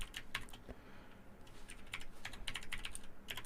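Quiet, close typing on a computer keyboard: a quick run of irregular key clicks, a short lull, then a denser burst of keystrokes that includes an enter press.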